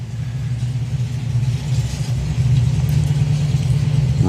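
A supercharged Whipple-blown hot rod drag car engine at NSRA Hot Rod Drags rumbles loud and steady, building slightly in intensity with a deep throbbing drone and no voices.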